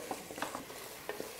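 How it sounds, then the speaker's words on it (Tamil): Tomatoes are sautéed and stirred in a pan for a mutton curry, giving a soft, low sizzle broken by a few light scrapes and taps of the spoon, faint and close by. "இப்போ தக்காளி சேர்த்து நல்லா மசிய வதக்கிடுங்கம்மா."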